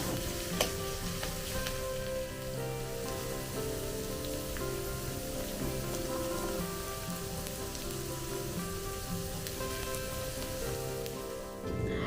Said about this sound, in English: will put other vegetables like carrots, and I will saute for few minutes